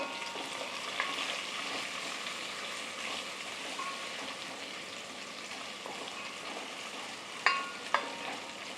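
Chopped onion frying in hot oil in a pan, a steady close sizzle with occasional scrapes and clinks of a spoon stirring, two sharper knocks near the end, no talking.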